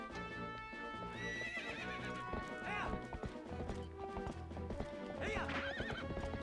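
A horse gallops with steady hoofbeats and neighs twice in the video game Twilight Princess HD, the whinnies rising over changing in-game music.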